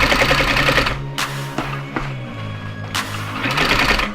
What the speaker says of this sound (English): So we just really want to stitch along that same line that we have there.